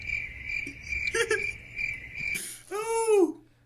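Cricket chirping sound effect: a steady high-pitched insect trill running continuously and fairly loud, interrupted near the end by a brief swooping squeak, with no talk.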